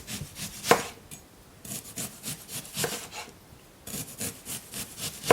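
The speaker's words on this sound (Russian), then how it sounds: "Лук я буду резать кольцами." Knife slicing an onion into rings on a wooden board for meat baked under an onion layer, giving repeated rasping cuts and soft chops close up, with short pauses between strokes and no talking.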